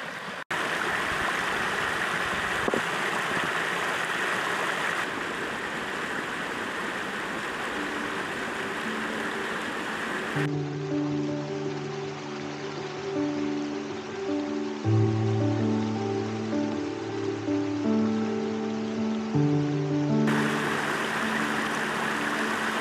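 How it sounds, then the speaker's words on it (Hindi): A stream flows through a remote Uttarakhand village, a steady close rush of water throughout. Through the middle stretch a low droning, tonal hum sits on top of the flow before the plain rush returns. "शांति कितनी मिल रही है ना पानी की आवाज"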